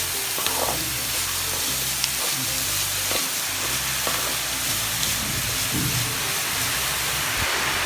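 Goat intestines and meat frying in a masala of sautéed onion for a Nagercoil hotel-style boti fry, a loud continuous sizzle with steady stirring and occasional scraping of the pan.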